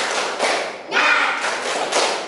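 A classroom group performs a 'tepuk semangat' spirit clap, a quick patterned series of loud, close claps in short rhythmic bursts with brief pauses between phrases.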